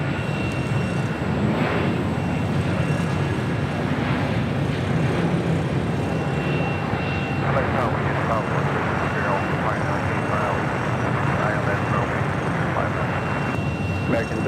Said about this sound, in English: Delta Airlines Flight 520 coming in from JFK, 767-300ER, next arrival.